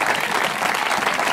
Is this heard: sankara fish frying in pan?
no